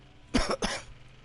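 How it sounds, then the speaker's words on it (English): Two quick, close coughs in a row, fairly sharp and near, followed by quiet. "Can't get rid of this cough, guys."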